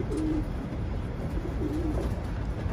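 Racing pigeons in a loft give two low, soft cooing phrases over a steady background hum, fairly close and without any talk.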